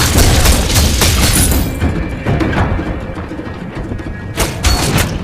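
A turret explodes in the video game Mobile Legends: Bang Bang. A loud boom with clattering impacts opens the clip, and a sharp burst comes near the end, with game effects in between.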